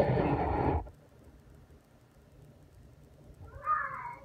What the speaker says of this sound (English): My cat, I guess, disapproves of the test.